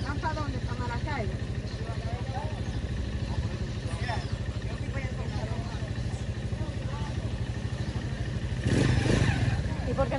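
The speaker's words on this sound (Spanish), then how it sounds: "La moto." A motorcycle idles and rumbles nearby on a road at the Colombia–Venezuela border, a steady low engine putter running throughout with people talking over it, and the engine swells louder near the end.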